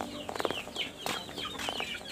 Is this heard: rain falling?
no